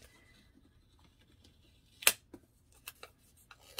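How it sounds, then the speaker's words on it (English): Scissors snipping through planner paper for a vertical Happy Planner layout, a sharp close cut followed by a few lighter, quicker snips in a quiet room. "So maybe I'll cut the top off."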